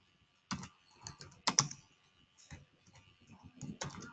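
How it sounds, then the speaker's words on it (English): Keys clatter on a computer keyboard as a label is typed into a spreadsheet cell, short bursts of close, crisp clicks separated by brief pauses. "type in the label times table."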